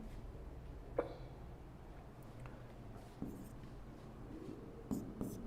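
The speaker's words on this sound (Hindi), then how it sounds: "तो हम ये लिख सकते हैं इसमें कि" Pen or marker writing notes during a Class 10 biology lesson, a faint scratchy scribbling with a few soft taps, heard alone and close in a quiet room.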